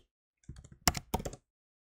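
Typing on a computer keyboard, a short burst of soft close key clicks followed by a few firmer taps, heard alone in a quiet room.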